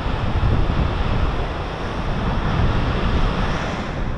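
Atlantic sea water surges into the rocky cliffs of Boca do Inferno on the Portuguese coast, a loud continuous roar and wash of surf with wind buffeting the microphone, no voices over it.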